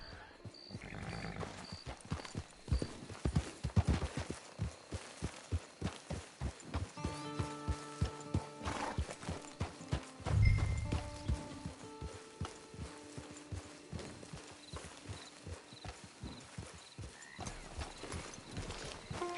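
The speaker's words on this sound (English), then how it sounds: "It's your horse." Horse hooves clip-clop steadily in Red Dead Redemption 2, a rhythmic walking gait close by with an occasional whinny and game music and ambience layered underneath.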